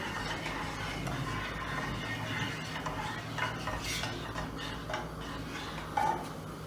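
Margarine, 200 grams, melting in a pot while a spoon stirs it for a chocolate brownie batter, giving a steady soft scraping and clinking of utensil against metal, with a brief sharper tap near the end.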